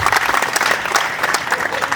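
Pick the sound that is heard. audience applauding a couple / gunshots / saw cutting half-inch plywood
audience applauding a couple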